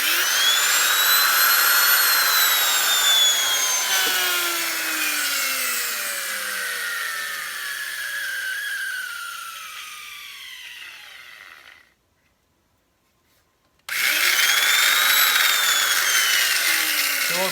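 Heiniger Extra sheep clipper running loudly with a stripped gear, a harsh, sustained mechanical whine and grinding buzz that slowly drops in pitch, cuts to silence for about two seconds, then returns at full roar.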